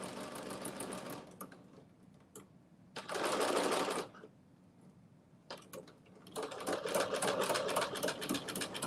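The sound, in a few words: sewing machine sewing ruffle fabric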